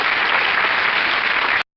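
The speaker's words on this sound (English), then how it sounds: "I'm clapping for you." Applause from an audience at a talk in Jeddah, a loud, dense, steady wash of clapping from many hands that cuts off abruptly at the end.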